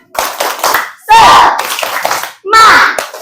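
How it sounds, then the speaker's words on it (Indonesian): A sixth-grade class claps together in a quick rhythmic pattern, two bursts of sharp hand claps with children's voices chanting between them. "Oke, semuanya kita tepuk semangat ya."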